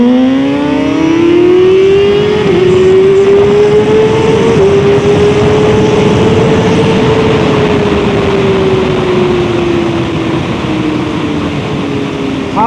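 A Kawasaki Ninja motorcycle engine revs loudly and up close, holding one sustained droning note that climbs, steps up a couple of times, then slowly falls away with no talking.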